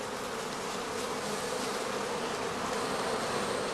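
Honeybees humming in a steady, dense drone at a straw skep hive on a stand in a heather apiary near Dorfmark, close and continuous with no voices.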